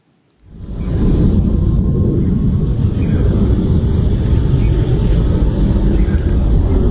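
A fighter jet over Iraq roars in abruptly and holds a loud, continuous broadband rumble overhead; no distinct gunfire bursts stand out from the steady jet noise.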